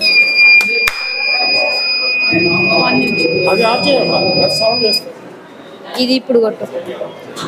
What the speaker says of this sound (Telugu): మనం ఆ క్లాప్స్ కొట్టగానే దాని యొక్క బజర్ అనేది వినిపిస్తుంది